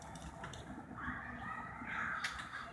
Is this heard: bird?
yes